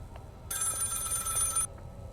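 A telephone rings once inside the Maid of Sker horror video game, a bright, steady electronic-bell burst lasting about a second, clear and close over a quiet, dark background.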